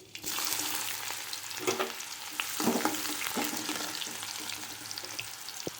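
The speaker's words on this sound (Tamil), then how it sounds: "இப்போ லைட்டாக சீரகம் கொஞ்சம் போட்டுக்கிறேன். அதோட வெங்காயம் போட்டுக்கிறேன்." Onion frying in hot oil with cumin and fenugreek seeds: a strong, continuous sizzle and crackle, close up, with a few stirring scrapes and no talking.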